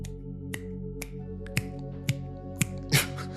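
Finger snapping with the right hand, a series of about seven sharp, crisp snaps spaced roughly half a second apart, close and clear over a faint steady hum, with no talking.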